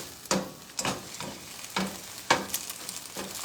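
Scrambled eggs cook in brown butter in a pan under a soft, steady sizzle, broken by about six rhythmic scraping strokes of a spatula as the eggs are sectioned and flipped.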